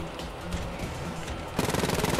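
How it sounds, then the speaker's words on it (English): Continuous automatic gunfire in Wolfenstein Youngblood, a dense steady rattle that breaks into a louder, faster, evenly pulsing burst near the end, with no talk. "I'm shooting him"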